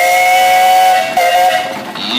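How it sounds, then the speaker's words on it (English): A loud, sustained steam traction engine whistle blows during a parade with a steady shrill tone over hissing steam, wavering slightly near the end. "Give us a whistle there, Jim."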